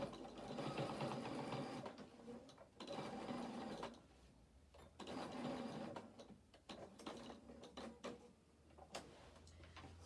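A sewing machine stitches bar tacks on a denim skirt in short bursts of rapid mechanical chatter, separated by pauses with clicks and handling sounds, quiet and close.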